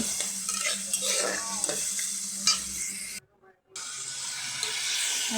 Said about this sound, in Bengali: তরকারিটা এখন এখানে কষাই দেন